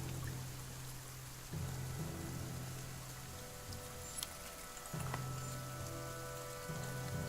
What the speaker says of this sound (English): The rain continues and the caravan struggles to keep moving.